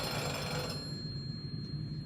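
A telephone bell rings as a radio play sound effect in a staging of The Great Gatsby, a bright, buzzing ring that cuts off partway, leaving a low steady hum.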